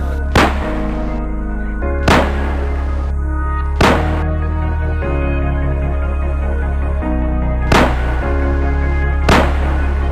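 NCC cadets fire rifles on command in a ceremonial drill, producing five sharp, loud reports spaced a couple of seconds apart over a steady low drone.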